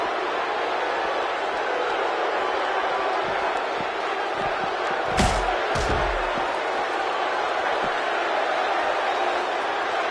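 A wrestling crowd in the WWE 2K16 video game roars in a steady, dense wash, with a couple of heavy slam thuds near the middle.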